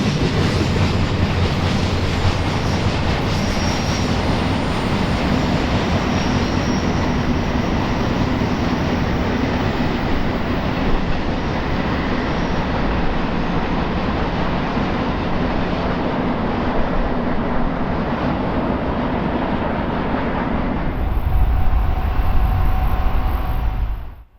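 A BNSF C44-9W locomotive in a Santa Fe-inspired scheme leads a westbound freight along the former Santa Fe line on Route 66, a loud, steady roar of rolling cars and rail clatter that holds for the whole stretch, then shifts near the end.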